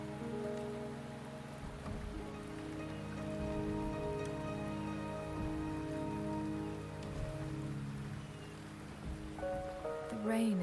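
Steady rain falls in the video game Wuthering Waves, a continuous soft patter running under sustained tonal music for the whole stretch, with a brief rising tone near the end.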